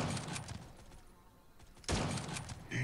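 Rapid gunfire from the mobile shooter Guns of Boom, dense bursts of shots up close, a quieter lull in the middle, then a loud renewed volley near the end.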